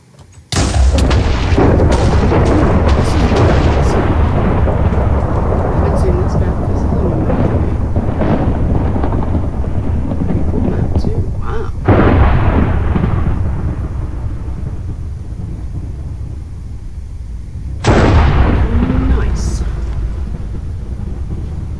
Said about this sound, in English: So we'll just sit here and watch the lightning strike.